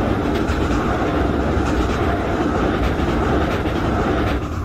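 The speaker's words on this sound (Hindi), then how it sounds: "यहाँ पे कोई तो ट्रेन जो है मेन लाइन से क्रॉस कर रही है, अपनी ट्रेन को ओवरटेक कर रही है" A superfast train roars past on the main line in Indian Train Simulator, overtaking the Kalka Mail at night; a loud, steady rumble of wheels and wagons with faint rhythmic clatter, no voices.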